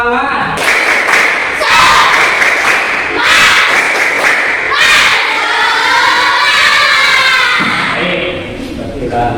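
A school class performs the 'tepuk semangat' clapping chant, children's voices shouting in unison over rhythmic bursts of clapping, loud and close in a classroom.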